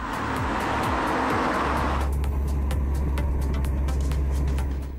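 VW Sharan diesel van with a six-speed manual gearbox accelerates with a rising engine drone. A marked change in tone partway through suggests a gear shift, and the engine keeps pulling steadily afterward.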